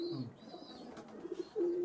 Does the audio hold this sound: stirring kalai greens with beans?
no